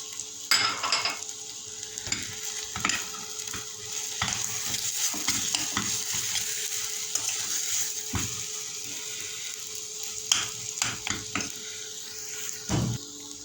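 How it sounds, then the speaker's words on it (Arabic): Boiled potatoes with salt, paprika, garlic powder, cumin and black pepper are stirred in a pan, a spoon scraping and clinking in irregular strokes over a soft background sizzle. "كده خلاص قلبتها شويه"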